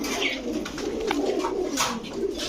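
Female pigeons in a dealer's loft keep up a dense, low cooing murmur, near and unbroken, with a few brief higher chirps and a little background talk.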